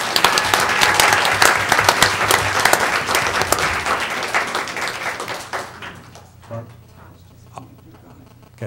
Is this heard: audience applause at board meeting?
yes